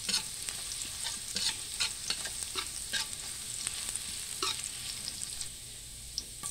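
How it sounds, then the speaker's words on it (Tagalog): Garlic sizzles in hot oil in a pan with a steady frying hiss. A utensil scrapes and stirs it in repeated strokes, close and clear, with no talk. "Ilagay na natin yung bawang. Halo-haloin natin ang bawang hanggang sa maging golden brown siya."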